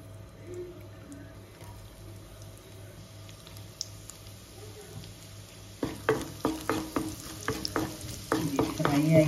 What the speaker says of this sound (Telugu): ఇప్పుడు ఆయిల్ వేస్తున్నాను. చిన్నులపాయలండి.